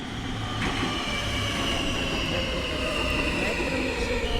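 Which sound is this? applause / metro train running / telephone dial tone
metro train running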